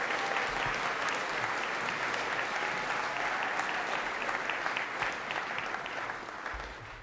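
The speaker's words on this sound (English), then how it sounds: "please stand and receive a nice round of applause" School chapel congregation gives a sustained round of applause, dense and even, tapering off slightly toward the end.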